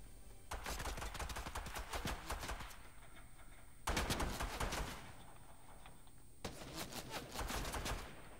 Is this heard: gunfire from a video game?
yes